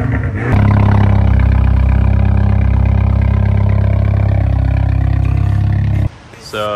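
A BMW F22 228i with the N20 engine and a straight-pipe exhaust roars loud and close in a sustained deep, droning growl that holds steady for about six seconds, then drops off abruptly.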